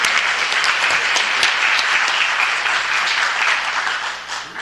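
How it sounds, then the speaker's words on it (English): Sustained applause from the audience at a city council meeting, dense and even clapping that fades slightly at the end. "let's give them a round of applause for all their contributions to our city"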